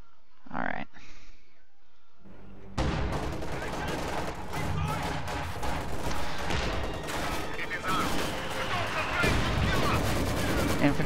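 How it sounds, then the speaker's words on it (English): An infantry support gun fires in a wartime strategy game, dense cracking shots and layered gunfire rising after a quiet opening, loud and sustained through the battle. "Infantry support gun firing."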